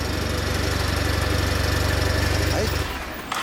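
A 2014 Kawasaki W800 motorcycle with its stock factory muffler idles close by, a steady, even low thrum that carries on unbroken before easing off near the end.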